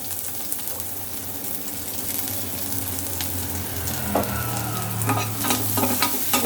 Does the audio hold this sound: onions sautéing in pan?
yes